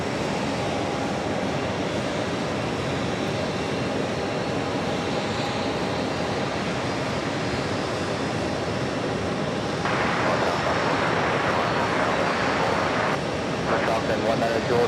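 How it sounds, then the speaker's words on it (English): A Qatar Airways Boeing 777-300ER arriving at JFK makes a continuous broadband roar of jet engines that swells slightly near the end. It is heard from a distance outdoors, with no speech. "And the big Q, Qatar Airways, 777-300ER"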